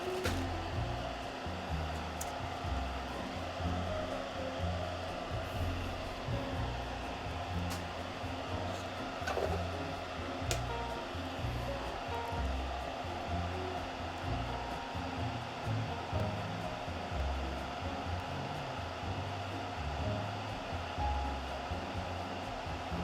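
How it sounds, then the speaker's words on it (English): Fume extractor fan running steadily during a keyboard build, a constant airy whoosh with low rumble, unchanging for the whole stretch with a few faint clicks on top and no talk. "I'm going to turn on my fume extractor here"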